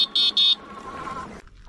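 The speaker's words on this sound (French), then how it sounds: "c'est un feu qui a la particularité de faire aussi avertisseur sonore" An electronic horn built into the four-LED front light of an electric fat bike gives two flat, loud buzzing toots in quick succession, followed by quieter background hum before a brief click.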